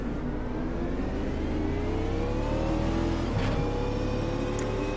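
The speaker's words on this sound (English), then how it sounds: "the beautiful Super V8 with its glorious sounds" Super V8 race car engine in the Automobilista 2 racing game at Bathurst, a loud, continuous engine drone rising steadily in pitch as it accelerates through the gears, with a brief shift dip midway and no talking.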